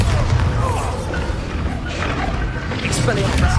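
Spell explosions from Confringo and Bombarda curses in Hogwarts Legacy, booming thuds and crashes rolling one after another through dense battle noise, with a voice speaking over the mix.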